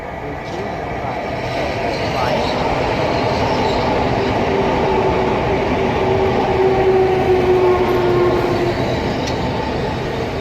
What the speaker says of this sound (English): Coming in a bit hot there, my friend. But that's 395005.